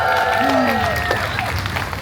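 An audience claps at a Deadpool holiday story-time show at Disneyland California Adventure, with steady applause running throughout under a performer's voice.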